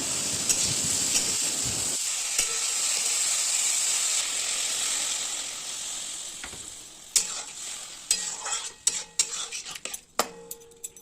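Potatoes and ridge gourd fry with onion in a hot pan, making a steady bright sizzle, then a spoon scrapes and clinks against the metal in quick, uneven strokes near the end.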